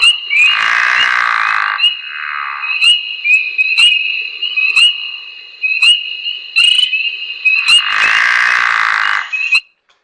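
A pickerel frog gives two long, low snoring croaks about a second or two each, near and clear, with a steady background chorus of high peeping spring peepers whistling throughout.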